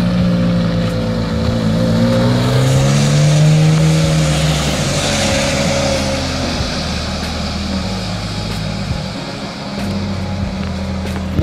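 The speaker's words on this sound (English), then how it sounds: "F430 is on the move." A Ferrari F430 sweeps past with a loud, rising engine note that swells and then fades into a steady drone over about ten seconds, heard outdoors with no talking.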